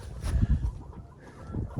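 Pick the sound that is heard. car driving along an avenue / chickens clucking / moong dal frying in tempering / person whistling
chickens clucking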